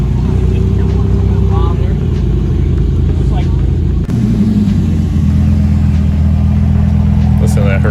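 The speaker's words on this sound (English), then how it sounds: "Listen to that Nettuno V6 idle." Maserati MC20 Cielo with its Nettuno V6 idling at a cars and coffee meet, a steady low rumble close by throughout, with crowd chatter underneath and a brief shift in tone midway.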